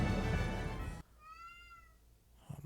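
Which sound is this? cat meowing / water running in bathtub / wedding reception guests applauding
cat meowing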